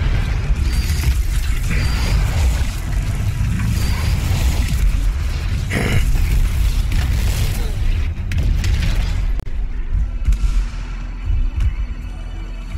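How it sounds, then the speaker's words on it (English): Siege cannon fire in a video game: a dense, loud, continuous rumble with a sharp boom partway through, mechanical creaks layered over heavy low-end roar. "Siege cannon fire!"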